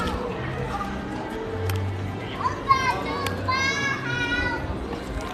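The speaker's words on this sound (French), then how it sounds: "il y a des enfants qui crient." Children shouting and playing in a busy crowd at the Disneyland theme park in France, their high excited voices rising and falling over a steady murmur of people, with a few sharp calls standing out.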